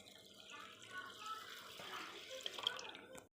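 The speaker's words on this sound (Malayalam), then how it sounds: "എന്നിട്ട് നമ്മൾ വെള്ളം ഒഴിച്ചു കൊടുക്കാം" Water poured from a vessel onto raw rice being readied for idli batter splashes and trickles softly for a few seconds, faint and close before cutting off.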